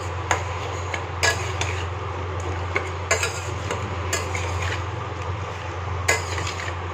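Vegetables with onions and salt being stirred in a pan over a low flame, with repeated scraping and clinking of the utensil against the metal at irregular intervals over a steady low hum, no talk.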